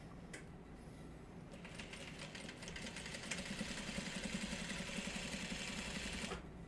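Sewing machine running a top stitch: a faint, steady rapid whir that builds and holds for a few seconds, then stops abruptly, with quiet background noise throughout.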